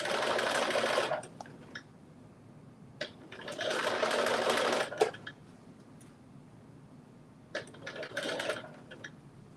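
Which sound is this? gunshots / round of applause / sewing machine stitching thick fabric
sewing machine stitching thick fabric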